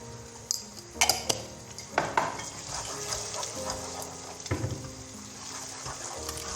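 A utensil stirs eggs seasoned with salt, red pepper flakes and black pepper in a pan for egg-fried green beans, giving scattered close scraping clinks against the pan over a low background.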